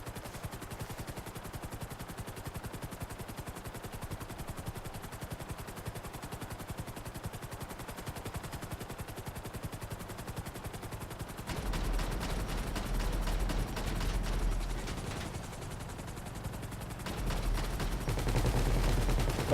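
Rapid heavy gunfire from a helicopter's mounted gun during a GTA V heist, a continuous dense rattle over rotor noise that grows louder partway through and stays intense to the end.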